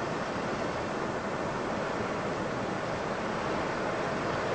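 Waves surging from a tsunami set off by glacier calving make a continuous broadband roar, steady and loud throughout, blended with wind noise on the microphone.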